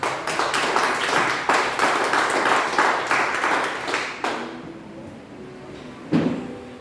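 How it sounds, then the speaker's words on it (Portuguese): A church congregation claps together in a dense, steady burst of applause for several seconds, then the clapping stops abruptly, leaving a quieter room with a brief knock near the end. "aplaudindo ao Senhor Jesus"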